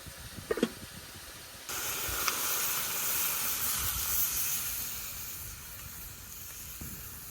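Curry being sautéed in a pan for a village-style snakehead fish and mustard greens dish: a steady broadband hiss of frying rises abruptly after a faint start and holds at moderate level throughout, with a few soft knocks.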